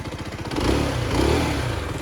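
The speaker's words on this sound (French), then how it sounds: "Pour une 125 monocylindres, on est vraiment sur un moteur qui est quand même assez sympa à écouter." A 125cc single-cylinder FB Mondial HPS 125 motorcycle engine, warmed up, revs up twice from a throbbing idle, loud and close, its thumping pulse rising and falling.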